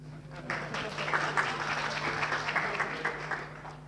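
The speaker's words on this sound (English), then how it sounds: "Applause." Audience applause at a software conference talk on mutation testing, a steady, moderately loud wash of clapping sustained throughout with a constant low hum underneath.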